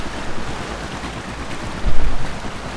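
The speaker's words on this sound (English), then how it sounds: "I am going into the wind against these waves" Loud rushing wind and crashing waves in the game Trailmakers roar steadily, with a heavier surge of water near the end.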